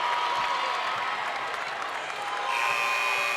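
A crowd of about 2,000 at a high school girls' basketball state final cheers and claps after a referee's call, loud and sustained throughout, swelling again near the end.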